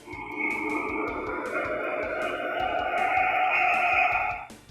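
Eerie electronic sound effects from a Ghostbusters Two in the Box toy in spooky mode: warbling, echoing tones with rhythmic pulses, fairly faint and continuous for several seconds before cutting off, with no talking.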